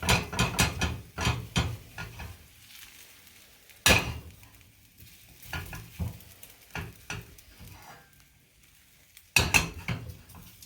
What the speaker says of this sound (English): you can swirl the pan around a little bit, which will help to fill in any broken spots.